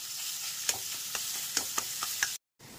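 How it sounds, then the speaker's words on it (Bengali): Shrimp paste with salt and turmeric sizzling in oil while being stirred, steady frying hiss punctuated by regular spoon scrapes and taps, then a brief cutout before the sizzle returns. "একটু নুন হলুদ দিয়ে প্রথমে ভালো করে নেড়ে নেব"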